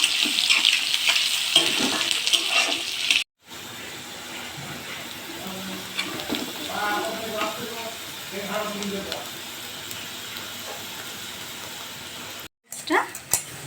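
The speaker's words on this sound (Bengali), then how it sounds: "পেঁয়াজ দিয়ে দিলাম। অল্প একটু লাল করে ভেজে নিলাম প্রথমে।" Sliced onions frying in oil in a home kitchen pan until lightly browned, a steady bright sizzle broken by a short silent gap, with a stretch of tonal, voice-like murmurs partly masking the middle.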